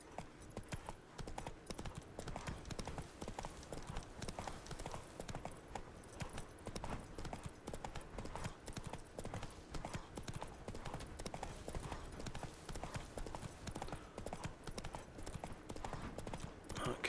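A horse gallops under a rider in The Witcher 3, with steady rhythmic hoofbeats clip-clopping continuously at close range and a faint voice now and then.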